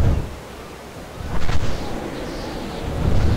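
Wind blows in the survival video game Ark Survival Evolved, a broad rushing roar that swells and fades in gusts, loudest in the middle and again at the end, with no talk.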